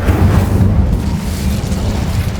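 An Incendio fire spell in Hogwarts Legacy erupts as a loud, rumbling blast that roars continuously for a couple of seconds with no talking over it.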